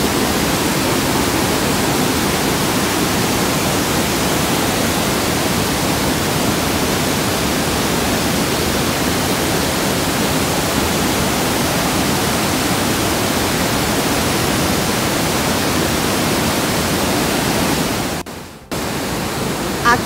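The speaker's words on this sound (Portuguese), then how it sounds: "O barulho da água aqui é quase que ensurdecedor." A thunderous, constant roar of heavy water pouring down at a waterfall lookout deck, loud and unbroken, briefly cut near the end.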